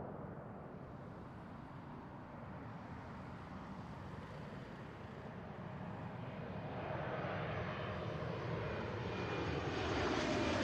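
An Airbus A220 arriving from Phoenix on short final at Seattle, its engine roar rising steadily from a moderate distance and growing louder as it approaches, with no talk.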